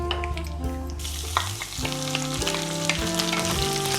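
Small sambar onions (shallots) sizzle steadily in a hot pan, a continuous crackling fry with faint stirring clatter and a low background hum.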